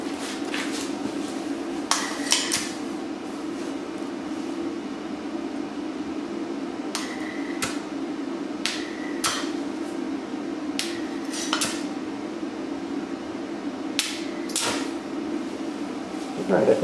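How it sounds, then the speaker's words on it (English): A stick welder, an AHP Alpha 160ST, makes repeated electrode strike attempts on metal, heard as a series of short, sharp crackling bursts scattered over a steady background hum. "So let's give this a shot and see if I can even strike an arc."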